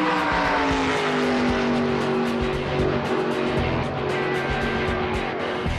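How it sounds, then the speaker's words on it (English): NASCAR race car engines on the Daytona track roar together in a loud, steady, dense drone of several engines running at once, with no break. "Gentlemen and lady, start your engines."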